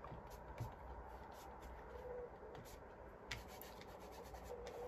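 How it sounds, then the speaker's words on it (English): Fingers rubbing paint into an art journal background, a soft continuous close scuffing and smearing on paper, steady and quiet throughout with a few faint taps. "And you can rub it in with your fingers."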